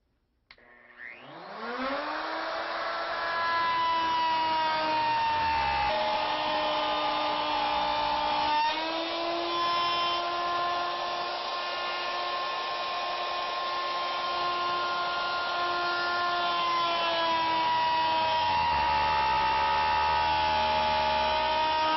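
A router fitted with a REVO dovetail kit spins up and plunge-cuts a dovetail slot in one pass, a loud, sustained high-pitched motor whine that rises quickly, dips briefly under load, then holds steady, alone without voices.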